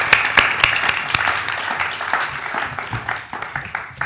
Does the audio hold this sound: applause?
yes